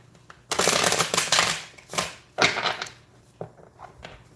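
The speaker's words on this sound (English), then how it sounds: "and I'm going to give these a quick shuffle." A deck of tarot cards gets a quick shuffle, close and crisp riffling bursts of rustling paper in two or three main passes, followed by softer taps and shuffles.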